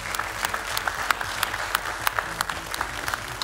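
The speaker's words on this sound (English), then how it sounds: "let's give her a round of applause and have Emily come up" An audience at an evening technology and leadership talk applauds to welcome a speaker to the stage, producing steady, even clapping throughout with sharp individual claps standing out.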